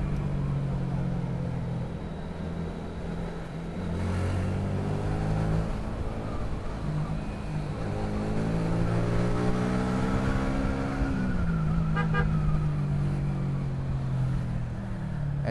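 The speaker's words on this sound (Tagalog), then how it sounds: "Eto na, traffic na." Busy road traffic near C5 in Metro Manila, with cars and jeepneys stopping at the roadside: a steady engine drone and rising, shifting motor tones from nearby vehicles, continuous and fairly loud, with no clear horn.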